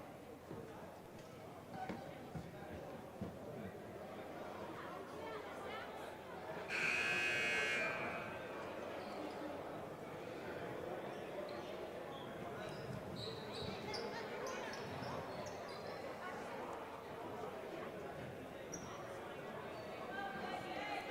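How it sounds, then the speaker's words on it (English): Long electronic buzzer blares for about a second inside a high school basketball gym at the end of a timeout, over steady crowd murmur and commentator talk. "Buzzer sounds, we are back underway."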